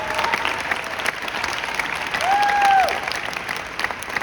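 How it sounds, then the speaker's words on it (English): Applause rises from a large crowd at a conference for a corporate team, a continuous broad clapping wash swelling slightly toward the middle, with a brief whistle-like tone cutting through and faint voices underneath. "give a round of applause for our corporate team for all their hard work"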